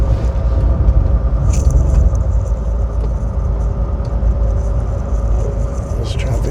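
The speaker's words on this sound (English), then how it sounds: "there's traffic here" Road traffic in sub-zero winter cold, heard from inside a car as a steady low rumble of engines and tyres with faint passing whooshes, while a person talks over it.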